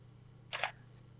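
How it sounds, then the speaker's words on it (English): One crisp camera shutter release, a short mechanical click-clack close to the microphone, set against a quiet, faint hum with a tiny second tick just after. "So I'm now going to take a picture with the default settings but in shutter priority mode."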